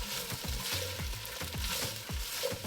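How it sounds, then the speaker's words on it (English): Onions and other vegetables sautéing in a soup pot, a continuous close sizzle broken by repeated scraping stirs at a steady rhythm, with no talking. "we'll just let this saute for another probably 5 minutes until the onions are translucent"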